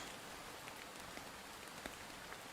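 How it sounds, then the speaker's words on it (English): Rain falling indoors through a porous ceiling in a building, heard as a steady, faint, even patter with scattered drops, no voices. "it's raining in here"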